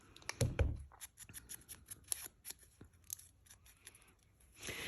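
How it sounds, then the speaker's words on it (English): Scissors cut around a paper shape for a handmade top-loading envelope, giving a run of quiet, close snips and rustling paper scrapes, with one louder handling knock near the start. "And I'm just going to cut around it."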